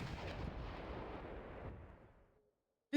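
M110 self-propelled artillery firing in a military video game: a single heavy, booming blast decaying into a long rumbling tail that fades to silence, with a brief sharp sound at the very end.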